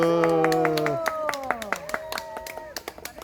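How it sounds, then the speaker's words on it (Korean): Outdoor audience at a children's ecological play in a park, clapping in scattered, sharp claps after a sung chord fades, the applause thinning toward the end. "박수 박수 박수."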